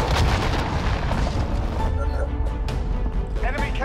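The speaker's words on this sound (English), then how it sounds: "Enemy cruise missile incoming!" A cruise missile explosion in Call of Duty: Modern Warfare booms heavily, with a loud rumbling blast and scattered pops and gunfire continuing throughout.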